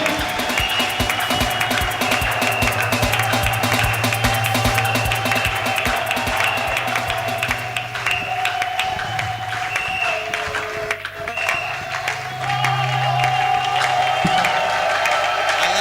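An audience at a church revival service, the Moisson Prophétique 2025 gathering, applauds to welcome the preacher. The clapping and crowd noise run steadily for the whole stretch, layered over sustained keyboard or organ tones with brief dips midway.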